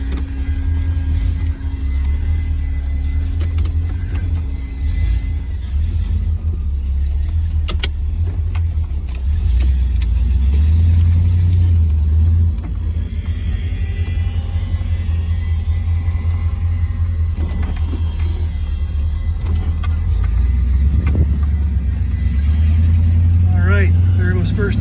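A 1967 Pontiac GTO convertible cruises on the road, its V8 giving a steady low rumble with wind and road noise throughout, while a person talks over it.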